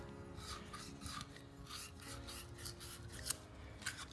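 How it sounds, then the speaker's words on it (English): Sandpaper rubbed back and forth inside a 3/4-inch copper pipe fitting, a soft, steady rasping scrape in quick repeated strokes, faint and close with no talk. "So I just take some sandpaper and clean up the inside, just like this"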